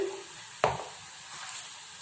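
Chopped onions fry in a pan for a tomato thokku, giving off a quiet, steady sizzle. A single sharp utensil knock stands out early, then the soft hiss carries on alone.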